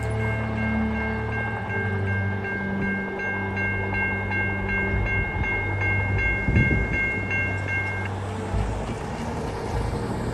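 A VIA Rail passenger train passes a rail crossing on a curve amid fall scenery, with a loud sustained horn chord over the rumble of the cars rolling by at close range.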